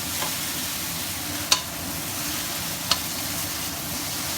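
Pad thai with shrimp stir-frying in a pan gives a steady, close sizzle, with two sharp metallic clicks of a utensil against the pan.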